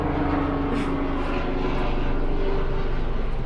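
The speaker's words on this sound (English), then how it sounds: "Helicopters going." A helicopter flies overhead in Los Angeles, a loud steady rotor and engine drone with faint rhythmic pulsing. It holds constant for a few seconds, alone with no voices.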